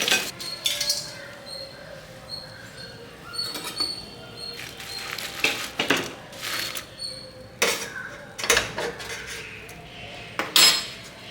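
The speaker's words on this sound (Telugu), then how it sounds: "నేను ప్లేట్లు వేస్తున్నాను ఇప్పుడు చూడండి ఫ్రెండ్స్ ఈ జాలిలో వేసుకున్నవన్నీ ఈ ప్లేట్లోనైతే వేసుకున్నాం" Fried potato pakodi is tipped from a metal strainer onto a plate, giving repeated light metallic clinks and scrapes at close range.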